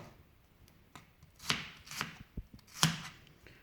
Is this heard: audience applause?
no